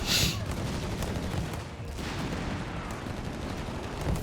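MG-34 machine gun fire in a Company of Heroes 3 battle. The rapid rattling bursts blend into a dense, continuous roar of battlefield gunfire at moderate loudness.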